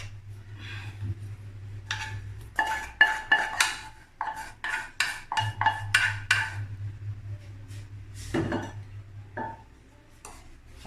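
Crushed biscuits stirred with melted butter in a bowl, a spoon clinking and scraping in bursts of quick close taps against the bowl, with quieter pauses between.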